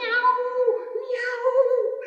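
A storyteller's voice imitates a cat meowing, giving two drawn-out, tonal meows in quick succession, close and clear with no other sound around them.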